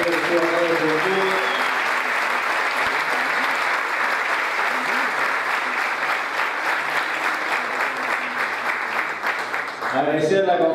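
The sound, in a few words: applause at a youth congress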